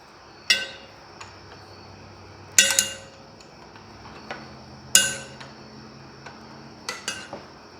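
Metal wrench work on an old International Harvester engine: sharp, isolated clanks and clinks of a wrench on bolts, spaced a couple of seconds apart, close and fairly quiet with no talk.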